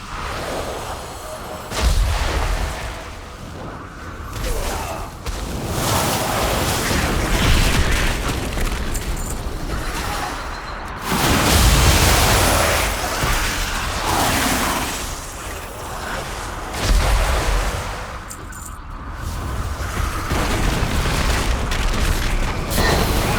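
Damaged arcane relics explode in World of Warcraft, with heavy repeated booms rising from a dense, continuous rumble of battle noise, loud and close.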